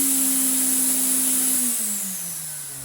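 A restored Electrolux Z2060 Electronic vacuum cleaner running at full power with its hose removed, a loud steady close whine and roar whose motor pitch sags slightly toward the end.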